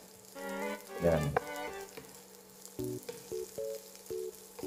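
Garlic frying in oil for chicken adobo gives a soft, continuous sizzle, with a few clinks and tonal sounds layered over it and a short spoken word early on.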